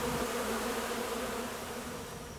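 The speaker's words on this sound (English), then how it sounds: "so all the bees in the hive will be in that box tonight" Dense, steady buzzing of a honey bee swarm crowding around a wooden hive box, a continuous close drone that holds level throughout with no voices.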